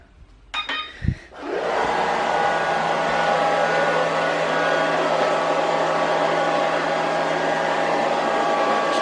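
A few faint clicks and thumps, then a robotic vacuum cleaner starts and runs with a loud, steady whir and hum, close by and unbroken.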